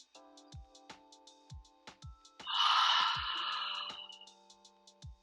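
A single long, breathy open-mouth exhale during a yoga relaxation, loud and close, rising suddenly and trailing off over a couple of seconds amid faint rhythmic ticking in the background.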